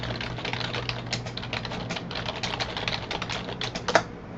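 Steady typing on a computer keyboard while formatting a document, with rapid, continuous key clicks at close range, a soft hum underneath, and one slightly louder keystroke near the end, no speech.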